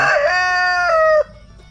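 A rooster crows once, loud and close, in a single drawn-out cock-a-doodle-doo at a chicken farm shed, ending abruptly with faint background hum after.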